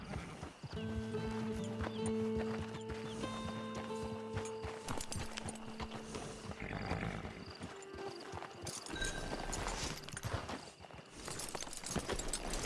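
Horse hooves clip-clop steadily at a walking pace near a camp in Red Dead Redemption 2, with an occasional whinny and sustained game music running underneath throughout.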